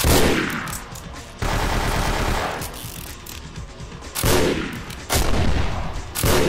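Gunfire in the vampire role-playing game Vampire: The Masquerade Bloodlines, loud bursts of automatic fire in several sharp volleys separated by brief lulls, with no talking.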